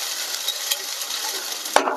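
Ground masala paste for mutton pepper gravy sautéing in a pan, a steady soft sizzle throughout with a faint scrape or clink near the end, no voices.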